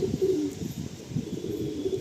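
A Madrasi pigeon coos softly indoors in a low, steady, rolling murmur that runs on continuously, close by and fairly quiet, with no talking.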